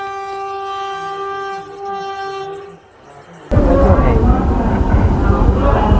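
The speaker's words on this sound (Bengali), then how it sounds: "আমাদের পাশে দেখতে পাচ্ছ বন্দে ভারত এক্সপ্রেস দাঁড়িয়ে রয়েছে" At Howrah station, a Vande Bharat Express train sounds a long, steady multi-tone horn that fades. A sudden loud, rumbling roar of rolling rail noise then takes over and continues to the end.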